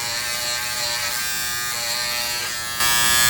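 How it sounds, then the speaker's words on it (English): A Braun Series 6 electric shaver buzzes steadily and close up for over three seconds while it works at a stubborn last hair, then its pitch shifts slightly brighter near the end. "This sometimes happens with electric shavers."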